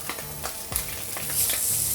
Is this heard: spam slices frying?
yes